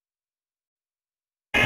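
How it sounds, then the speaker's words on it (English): World War II Stuka dive-bomber siren, a loud sustained wailing tone that starts abruptly near the end after a long silence. "This is a sound of Stuka siren in World War II."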